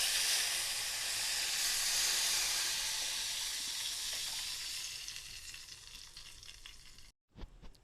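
Tomato rasam liquid poured into hot oil tempering in a pan gives a loud, continuous sizzle and hiss that slowly fades over several seconds, then breaks off abruptly into a short silence and a small clatter.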